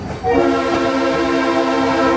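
A New Hope Railroad train sounds a loud, sustained horn close by, several steady tones blaring together over the rumble of the moving train.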